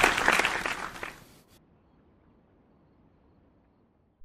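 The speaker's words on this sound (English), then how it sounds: "Give a round of applause" Crowd applause in the BeamNG.drive video game erupts at an opening ceremony, a burst of clapping and cheering that fades out after about a second and a half, leaving near silence.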